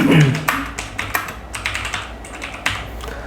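Quick tapping keystrokes on a computer keyboard, close and crisp with uneven rhythm, a brief voice at the start then steady typing alone.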